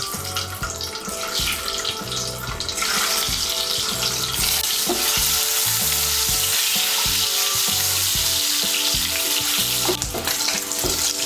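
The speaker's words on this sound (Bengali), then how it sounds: "ওই তেলের মধ্যে আমি ডিম আর আলুগুলো ভেজে নেব" Eggs rubbed with salt and turmeric and lightly scored fry in hot oil, a steady loud sizzle with crackling spatters running throughout, for egg biryani.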